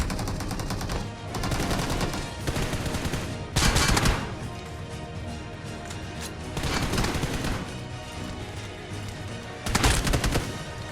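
Gunfire in a mobile battle royale game on Android: rapid automatic bursts with several louder, closer volleys breaking out over a constant busy background of battle noise.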